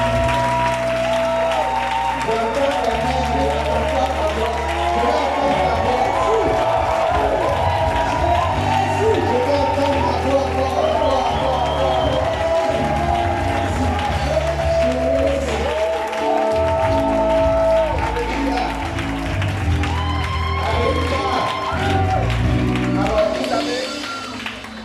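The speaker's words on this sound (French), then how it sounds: "Acclamons Jésus." Church congregation cheering and applauding for Jesus, a loud, continuous wash of clapping and shouts that fills the whole stretch, with music and voices mixed in underneath.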